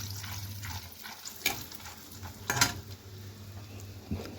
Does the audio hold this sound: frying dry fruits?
yes